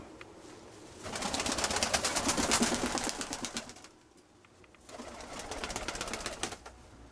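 Domestic pigeons coo softly around their loft, with two longer bursts of rustling and fluttering wings between quieter stretches and no voices.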